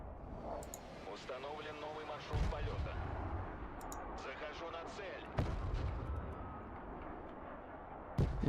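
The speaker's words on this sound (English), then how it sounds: "that missile's a lot quicker, that missile arc" Missile fire in the Broken Arrow strategy game, with three heavy booming launches or impacts spaced a few seconds apart, mixed under steady game noise and people talking.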